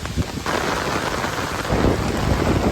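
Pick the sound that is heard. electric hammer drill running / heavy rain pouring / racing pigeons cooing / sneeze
heavy rain pouring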